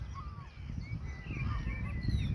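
Canada geese on estuary mud flats, several distant honks and calls scattered over a low outdoor rumble of wind and water.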